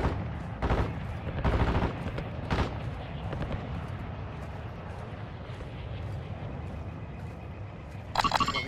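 Scattered distant gunshots in Call of Duty Warzone DMZ, a few sharp reports and short bursts spaced apart over a low ambient background, with a louder burst near the end.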